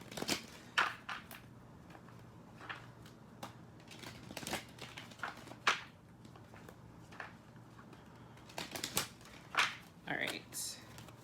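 Quiet, crisp flicks and riffles of tarot cards being shuffled in uneven bursts, close by, with occasional soft talking.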